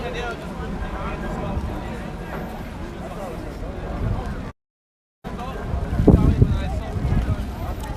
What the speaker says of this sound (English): It's not even like it's a consistent wind, it keeps gusting, and it's caught a few players out already.